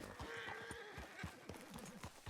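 In the Red Dead Redemption game, a horse whinnies while its hooves clip-clop in a steady rhythm, faint and somewhat distant, with no one talking.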